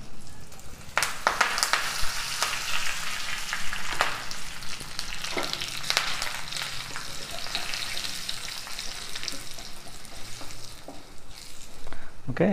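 A single dried red chilli and curry leaves crackle in hot oil, making a bright, continuous sizzle punctuated by sharp pops close to the microphone.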